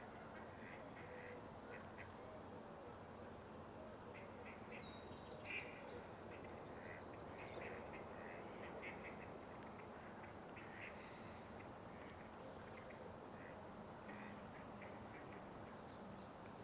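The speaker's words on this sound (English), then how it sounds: "Got some hungry ducks." Ducks quack in a marsh, faint, scattered calls from a distance over a steady outdoor hiss, with other birds chirping intermittently.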